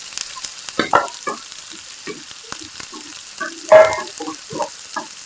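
Washed mushrooms frying and being stirred into a tomato masala gravy in a pan, with a soft sizzle and intermittent scraping stirs and clinks of a spoon.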